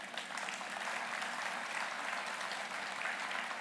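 An audience at a mayor's State of the City address bursts into dense, even applause that holds steady throughout, a close wash of many hands clapping with no voices standing out.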